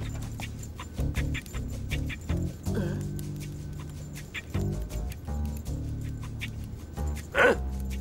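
A person imitates a mechanical dog in a French cartoon, producing a series of short barking and yipping bursts over a steady background hum, moderately loud and close.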